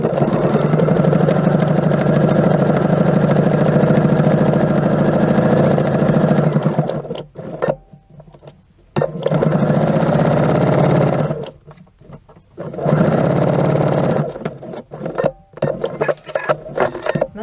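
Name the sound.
sewing machine stitching around a fabric face mask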